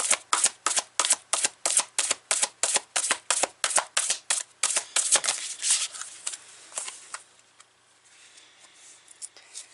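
Spirit Junkie and Super Attractor oracle cards are shuffled by hand in a quick, regular riffle rhythm of sharp bursts that loosens and fades into quieter shuffling before stopping.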